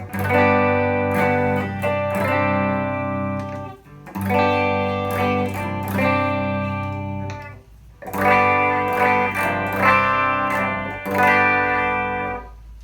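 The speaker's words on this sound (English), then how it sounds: "Now for the 40X, here is the clean tones." A clean electric guitar rings out through a Vox VT40X amplifier, strummed chords sustaining in phrases with brief pauses, loud and close with a touch of chorus.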